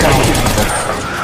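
Rapid gunfire in the video game Apex Legends, a dense, loud burst of shots filling the whole moment.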